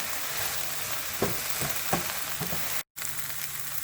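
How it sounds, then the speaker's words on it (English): Onions and curry leaves sizzle steadily in a hot pan for an okra curry, a close, continuous frying hiss broken by a few soft stirring scrapes and one brief dropout. "After sauteing the onions for a little while"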